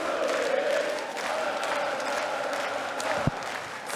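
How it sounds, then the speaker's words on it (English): Family members in a darts arena crowd cheering on Austrian player Mensur Suljovic at the Austrian Darts Open, a steady wash of crowd noise and voices with a sharp thump near the end. "The family Suljovic here, cheering on their husband and dad"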